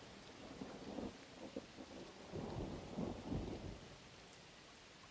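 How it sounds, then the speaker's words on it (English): Steady rain and low rolling thunder from the Oregon Trail video game, a soft continuous wash of rainfall with a couple of distant rumbles swelling and fading, heard alone. "the relentless rain."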